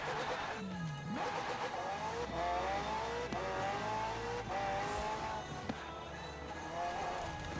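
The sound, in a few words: McLaren supercar accelerating in Forza Horizon 4 video game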